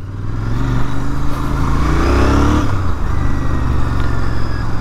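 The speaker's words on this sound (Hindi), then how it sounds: "अभी सबसे पहले हम लोग बाइक को स्टार्ट करते हैं।" A 2024 Royal Enfield Continental GT 650 twin-cylinder motorcycle pulls away in first gear, its engine note climbing loudly before easing back as revs drop, close and continuous with no voices.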